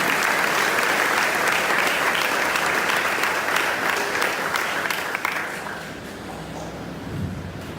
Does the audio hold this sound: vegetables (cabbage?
no